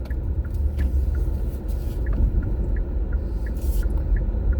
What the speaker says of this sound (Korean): 그러면 이제 깜빡이 소리를 한번 들어볼게요.